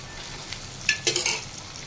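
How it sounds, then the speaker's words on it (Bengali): Okra (bhindi) frying in a pan in a home kitchen, a soft sizzle with a couple of brief louder crackling bursts near the middle, close and otherwise quiet, with no talking. "ভেন্ডি ভাজা চলছে"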